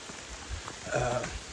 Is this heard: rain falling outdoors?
yes